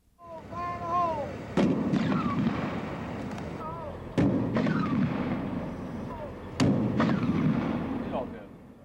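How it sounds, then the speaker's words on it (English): Buried bombs detonated one at a time three feet down in sand by a fire department bomb squad: three separate heavy booms, each a sharp crack followed by a long rumbling roar, with someone talking before and between the blasts. "The devices were buried 3 feet in the sand and detonated individually."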